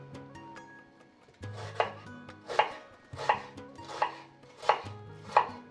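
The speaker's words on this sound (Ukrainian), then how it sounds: "Цибулю нарізаємо кубиком." A knife dices an onion on a cutting board, six or seven crisp, evenly spaced strikes, close and clear with no talking.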